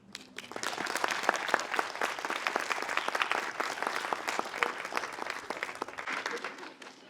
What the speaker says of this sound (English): Let's give Christina another round of applause.